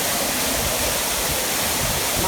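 Chiseni waterfall in the Kathmandu valley roars as a steady, dense wash of falling water, close and loud with no break across the whole moment and no voices over it.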